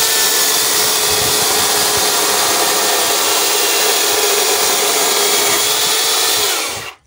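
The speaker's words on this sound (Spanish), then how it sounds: "estamos cortando leña para la sauna" Firewood for a sauna is cut with a loud, steady, close power-tool whine and broadband roar. It runs unbroken for about seven seconds, then cuts off abruptly.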